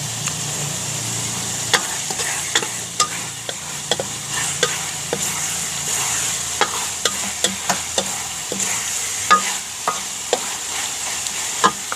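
Coconut worms stir-fried outdoors in a hot pan, a steady oily sizzle punctuated by frequent sharp scraping clicks of the spatula, moderately close and without talk.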